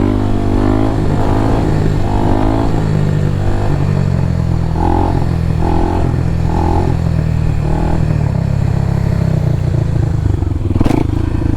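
A motorcycle engine runs steadily and loudly close by as the bike coasts on its back wheel and slows, with the revs rising and falling in short pulses and a clattering burst near the end.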